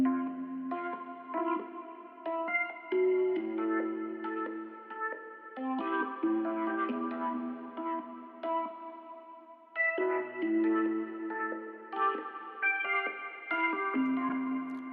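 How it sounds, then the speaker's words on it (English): Rhodes electric piano plays mellow chords and melody in a lo-fi style, with a delay effect adding echoing repeats, close and alone at moderate volume. "The Rode piano looks like this and it sounds like this."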